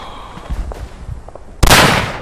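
A single sharp rifle shot cracks loud and close in the World War I video game Verdun, following a stretch of quieter shuffling and movement, then a lingering roar that decays slowly.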